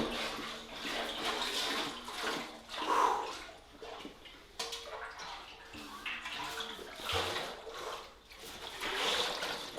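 Water pours and splashes into a workout keg in a continuous gushing stream that swells and eases in waves for about ten seconds.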